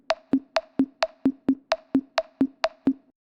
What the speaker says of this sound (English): So 7/8 time sounds something like this.